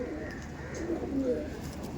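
A Punjabi pigeon coos softly in a few low, rolling murmurs, close by against a faint background hum.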